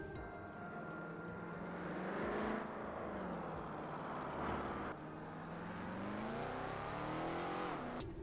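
A powerful V12 sports car engine revs and accelerates through rising and falling pitch sweeps, loud and close, with gear changes breaking the climbing roar.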